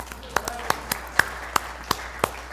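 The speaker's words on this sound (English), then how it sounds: "why not applause for me, right?" Scattered handclaps from a small morning congregation: about eight sharp, separate claps spaced unevenly over a few seconds, thin and modest rather than full applause.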